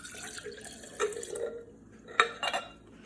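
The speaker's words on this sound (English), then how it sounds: "I'm gonna pour this into our jar." Coconut vinegar poured into a jar, gentle liquid glugs and splashes with a few glassy clinks, in short bursts separated by quiet gaps.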